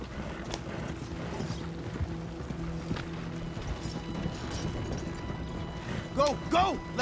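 Horse hooves gallop in a steady clip-clop in Red Dead Redemption 2, running under a continuous layer of game sound and ambience, with a couple of brief louder tonal calls near the end.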